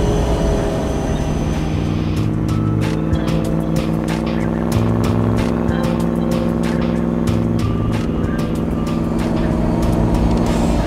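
Supercharged 6.7-litre V8 in a 1967 Mustang Fastback restomod, a loud steady engine drone with shifting harmonic bands held throughout, overlaid by sharp clicking or tapping transients from mid-clip on.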